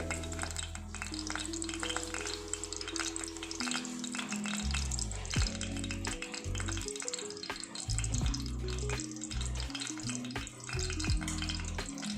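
Mustard seeds and green chillies hit hot oil for shavige uppittu, a continuous crackling sizzle running under loud background music.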